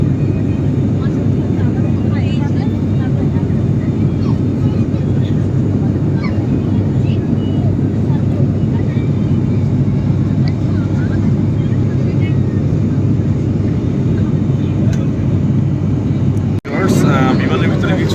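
Steady engine drone fills the cabin of a US-Bangla airliner in flight between Cox's Bazar and Dhaka, a loud constant roar with a brief thump near the end.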